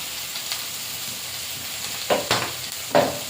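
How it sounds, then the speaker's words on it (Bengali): A spicy masala paste sizzles and hisses in hot oil in a pan as it is stir-fried for a fish dish, with a steady frying hiss and a few louder stirring scrapes near the end, close up and with no voices. "মশলাটা ভালো করে কষে নেব"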